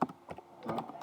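Brief burst of quick keystrokes on a computer keyboard while writing Java code, soft close clicks in an uneven run.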